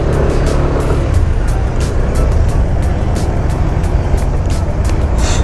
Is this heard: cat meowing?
no